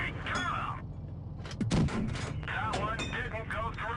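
A T-34 tank's 57 mm gun fires in a tank video game, one sharp, punchy shot mid-clip over a steady engine drone, with someone talking before and after it.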